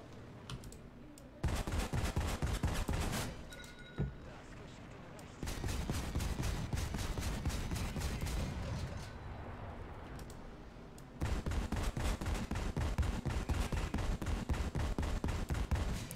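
Aircraft cannons firing in War Thunder, rapid sustained bursts of loud, evenly spaced shots in several long volleys separated by brief pauses, with a voice talking in between.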